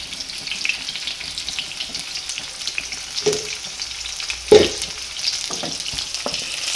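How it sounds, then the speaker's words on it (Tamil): Onions sizzle steadily in a hot pan while making garlic tokku, with a few sharper clacks of a spoon stirring, close up and fairly loud. "வெங்காயம் நல்லா வதங்கினோன்னே ஸ்லோ ஃபயர் பண்ணி வெங்காயத்தை எடுத்துருங்க."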